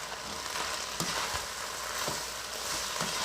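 Vegetables sautéing in a pan for chow mein, a continuous close crackling sizzle with light stirring clicks, steady throughout.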